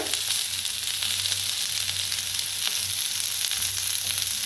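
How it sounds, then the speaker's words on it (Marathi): Sliced onion sizzling in hot oil with cashews and chopped tomato added for a spicy village-style chicken curry, a steady close frying hiss throughout with no talking. "हलकासा कांदा भाजायला लागलाय, त्याच्यातच ओतूया थोडंसं तेल"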